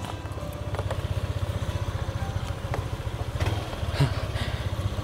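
A motorcycle engine idles with a rapid, even low thump close by, its putter holding steady with slight surges of revving.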